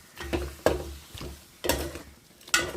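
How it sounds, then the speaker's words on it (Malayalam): A spoon stirs cooked beef and water in a pot for Kerala-style kappa beef biriyani, giving four or five distinct scraping, splashing strokes spaced evenly apart, close and fairly soft, with no talking. "അല്പം വെള്ളമൊക്കെ ഉണ്ട് നമുക്ക് ഒഴിച്ചു കൊടുത്ത് നന്നായിട്ടൊന്ന് ഇളക്കിയെടുക്കാം"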